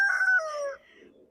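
A backyard chicken lets out a single short, bright squawk or crow-like call, close and clear, fading into quiet yard ambience.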